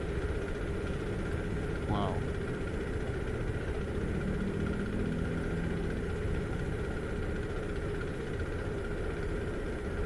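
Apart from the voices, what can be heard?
Kawasaki KLX230SM supermoto engine idling at high RPM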